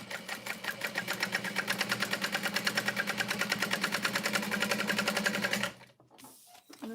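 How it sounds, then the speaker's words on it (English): Sewing machine top-stitching across the top of a pocket, a steady rapid needle rhythm running close and loud for several seconds before stopping abruptly, followed by quiet handling sounds. "I'm going to top stitch across the top of this pocket"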